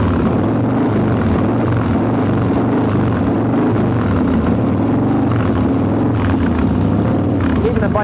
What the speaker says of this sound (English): We got the bike running here now.